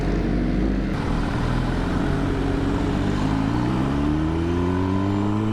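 An MV Agusta Brutale 1000RR motorcycle engine revs and climbs steadily in pitch, loud and close, building over a few seconds with no talk.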